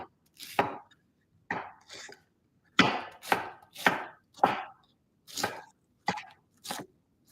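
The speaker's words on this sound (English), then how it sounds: "Cabbage is cut, ready to go." A knife chops through cabbage in about a dozen sharp, separate strokes, some close together and some spaced apart. The chopping is close and crisp with quiet gaps between strokes and no talking.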